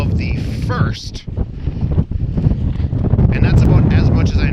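Gusty wind buffets the microphone at an outdoor high school baseball game, a loud, continuous low rumble that swells and dips throughout, with faint voices underneath.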